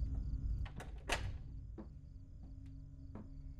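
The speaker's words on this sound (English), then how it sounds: "I just heard a door open upstairs." A door opens upstairs in the horror video game Fears to Fathom: Carson House, heard as a few faint, distant knocks and creaks over a steady chirping of insects in a quiet house.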